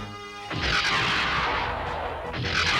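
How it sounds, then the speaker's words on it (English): Cartoon missiles explode against a ship deck in a loud, booming crash that swells after a brief lead-in, rumbles on, then flares again with a second burst. "Missiles hit the deck!"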